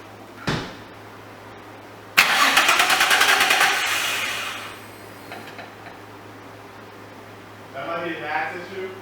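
A swapped-in Nissan VQ35DE engine cranks with a brief click, then catches into a loud, steady idle that settles down after a few seconds, with people talking near the end.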